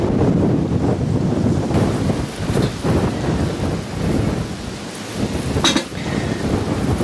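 Storm wind buffets a balcony in a loud, continuous roar, rising and falling in gusts with heavy rumbling blasts against the microphone and no voices.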